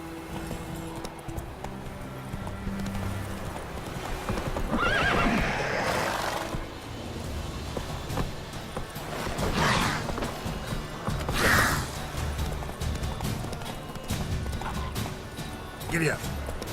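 Horse in The Witcher 3 video game, with hoofbeats clip-clopping under continuous game ambience and several loud whinnies and neighs spaced through the passage.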